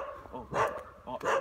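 Dog barking outdoors, two loud, close barks spaced about half a second apart, with a few softer yips before them.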